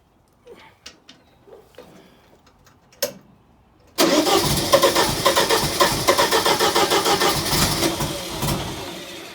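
A neglected, abused 1980 Clark Bobcat 732 skid steer: a few faint clicks and knocks, then the engine suddenly catches and roars into a loud, rhythmic diesel-like chugging that settles toward a rough idle.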